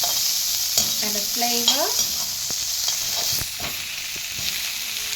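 Garden chives stir-fried in a pan for spring roll filling, a steady broadband sizzle with scraping stir strokes, under a brief spoken phrase.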